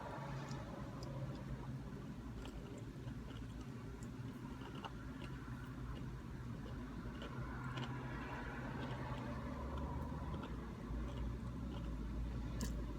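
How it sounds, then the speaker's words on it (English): Steady traffic rumble from cars passing on a busy road, heard from inside a parked car, continuous and moderately loud with a faint ticking on top. "so I know you guys can probably hear the cars too"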